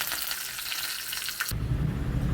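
Curry leaves hit hot oil with popped mustard seeds and a few fenugreek seeds for fish curry, giving a close, bright sizzle that shifts to a fuller, louder frying crackle halfway through.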